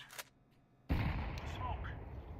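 A grenade explodes in the Counter-Strike 2 video game. After a brief faint sound, there is one loud, close blast that rolls into a long, rumbling decay.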